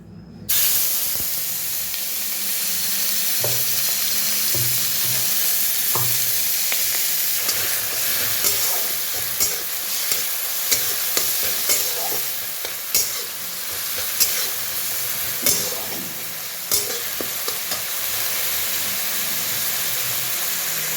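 Chopped tomato, onion and green chilli drop into hot oil with a loud burst of sizzling that settles into a steady, close hiss and crackle, broken by scattered stirring clinks and scrapes, with no talk.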